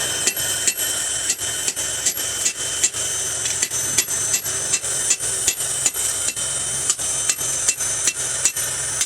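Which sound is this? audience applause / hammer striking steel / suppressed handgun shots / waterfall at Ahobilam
hammer striking steel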